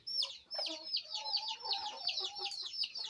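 An Aseel Amrohi hen clucks rapidly and continuously, close by and moderately quiet, with no talking.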